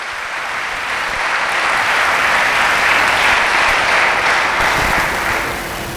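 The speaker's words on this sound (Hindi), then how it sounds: "उसके नाम के लिए जोरदार तालियां।" Loud, sustained applause from a large church congregation, swelling in the middle and easing toward the end.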